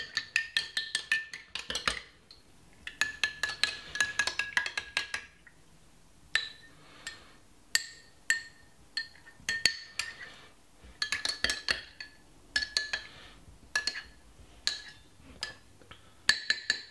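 A spoon stirs a morning drink in a glass, making bright, rapid clinking taps in bursts with short pauses, close and clear, and nothing else heard.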